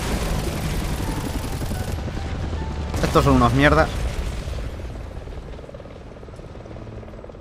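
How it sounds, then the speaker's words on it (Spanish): Helicopters in the video game Resident Evil 6, a steady rotor drone mixed with bursts of gunfire and explosions, while a player talks over the game sound. "Vale, ahora ya vienen los helicópteros."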